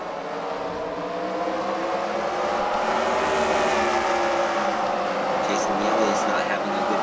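Race cars run at a night race meeting, a continuous loud engine roar with shifting revs from several cars, heard under an announcer's steady commentary.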